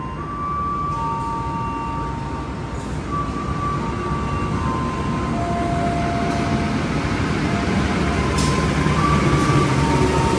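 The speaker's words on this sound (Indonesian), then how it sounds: "Yang akan masuk adalah kereta api Airlangga, teman-teman, dari Pasar Senen tujuan Surabaya Pasar Turi" The Airlangga economy train from Pasar Senen to Surabaya Pasar Turi pulls into a station with a continuous deep rumble and a steady rolling roar, faint tonal whines drifting over it.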